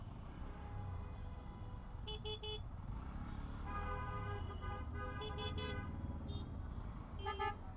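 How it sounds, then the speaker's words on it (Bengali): A traffic jam on a road, heard from a Hero Glamour X motorcycle, with steady low engine and traffic rumble and several short car horn toots and honks at a distance. "এখানটা একটু জ্যাম আছে।"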